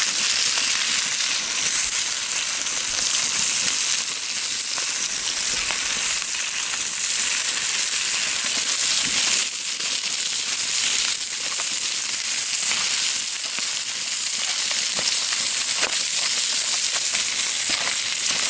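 Local sausages wrapped in local bacon frying on a hibachi grill, giving off a loud, continuous crackling sizzle with dense spitting pops of fat and no talk.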